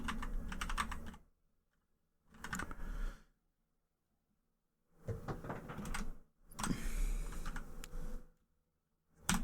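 Typing on a computer keyboard, close and fairly quiet, coming in four short bursts of rapid key clatter separated by pauses of silence.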